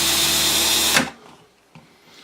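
A step drill bores into a Piper Super Cub Widebody's instrument panel with a steady, close whine for about a second, then stops, leaving near silence broken by a few faint clicks.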